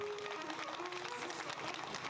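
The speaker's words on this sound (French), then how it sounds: "Est-ce qu'on peut applaudir s'il vous plaît?" An audience applauds at the opening of a shop, a continuous dense wash of clapping at moderate distance with faint voice traces underneath.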